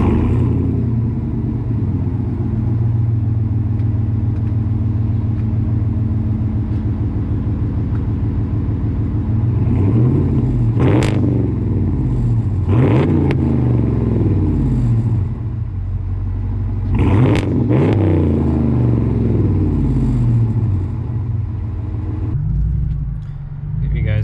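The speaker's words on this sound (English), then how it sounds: "So I'll give you a sound clip of the exhaust here." Lowered Ram 1500 pickup truck with a carbon cutting clamp on its exhaust, idling with a deep steady rumble, then revved in several sharp throttle blips that rise and fall, heard up close.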